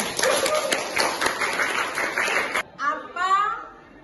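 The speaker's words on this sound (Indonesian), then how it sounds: "ya benar, tepuk tangan." A classroom of high school students claps together in a brisk burst of about two and a half seconds. It cuts off abruptly, and a voice follows.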